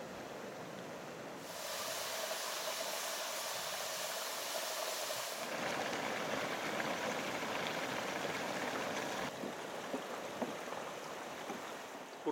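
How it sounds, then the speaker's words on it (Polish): A geothermal steam vent in Iceland gives a steady, loud broadband hiss and roar, continuous throughout with slight surges, close by and unbroken by voices. "Urkocze, syczy."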